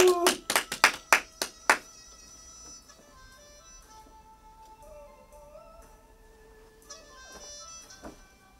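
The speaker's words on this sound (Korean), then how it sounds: "박수로 청해 듣겠습니다" Live studio audience at a Korean afternoon radio show gives a short burst of sharp clapping, about seven distinct claps, before a trot singer's unaccompanied live song; faint instrumental tones linger afterward.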